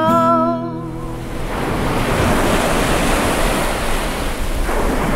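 Ocean waves wash in as a loud, continuous broadband surf roar after a brief musical tone at the start, building and holding steady with a surge near the end.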